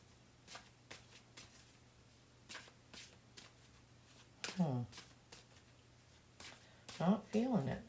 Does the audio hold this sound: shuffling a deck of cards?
yes